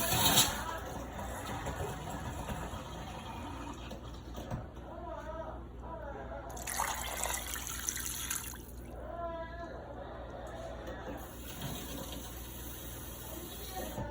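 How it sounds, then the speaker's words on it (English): Water pours from a tap into a pot of oxtails, a steady running stream with a rising, gurgling fill under a speaking voice and a faint background hum. "I'm gonna go ahead and add some water"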